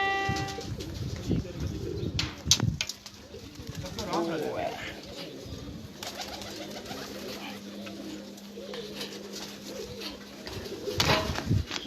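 High flyer pigeons coo softly on a rooftop, faint throaty calls drifting under people talking, with a few sharp knocks and handling noises.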